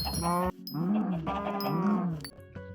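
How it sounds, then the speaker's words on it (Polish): Cows mooing inside a barn in Minecraft Hypixel Skyblock, three drawn-out bellowing moos in close succession, loud and near, with short gaps and a clipped tail at the end. "poszedłem do obory i zacząłem zabijać krowy"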